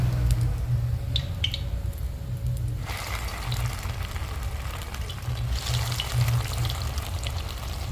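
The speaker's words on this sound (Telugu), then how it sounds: "దాన్ని మనము ఫ్రై చేసుకుంటాం అన్నమాట" Bread pieces fry in hot oil in a pan, a steady soft crackle and sizzle running throughout at moderate level, with faint clinks and a low background hum underneath.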